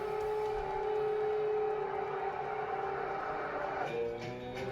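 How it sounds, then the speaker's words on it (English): Air raid sirens over Kyiv, Ukraine, hold a steady wailing tone across a city, sustained and fairly loud, easing slightly near the end with no voices. "Air raid sirens ring out over Ukraine's capital."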